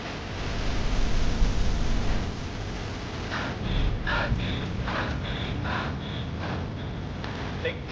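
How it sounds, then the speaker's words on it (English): Heavy, labored breathing of a firefighter moving through a gas fire, harsh rasping breaths repeating in a steady rhythm over a constant roar of background noise. "That is not how you want to be breathing whenever you're going through a fire."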